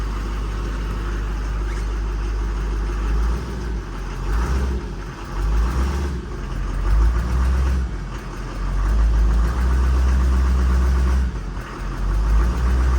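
A heavy diesel engine in a Chevrolet Kodiak / TopKick truck with a newly fitted FASS fuel system rumbles steadily at idle, low and continuous, with slight swells in loudness and no voices.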